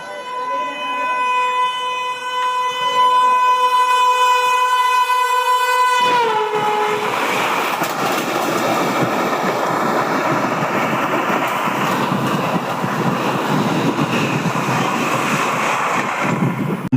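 Rumble and rattling of a Vande Bharat Express running along the rails, heard from inside a carriage, loud and steady after a long sustained horn-like tone at the start.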